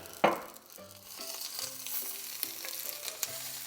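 Oil sizzling in a hot pan while cooking steak and broccoli, a sudden loud hiss as it hits, then a steady crackling fry with a few scattered pops, moderately close.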